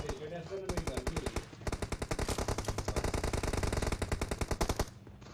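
Rapid automatic gunfire from an M416 rifle in PUBG Mobile rattles in a long, dense burst, each shot sharp and close, with a brief pause partway through before the firing resumes.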